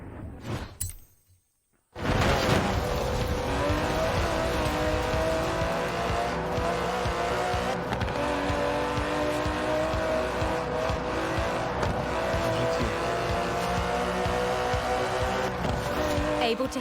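Aston Martin DB11 with a 5.2-litre twin-turbo V12 in the Forza Horizon 4 racing game, a steady loud engine drone with tyre noise running continuously after a brief quiet opening.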